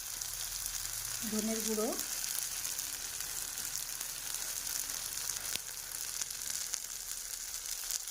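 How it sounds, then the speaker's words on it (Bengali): A spice mix with coriander powder lightly frying in a pan gives a steady, even sizzle throughout, with a voice speaking briefly and softly over it. "দেখো এই মশলাটাকে হালকা ফ্রাই করে নেব"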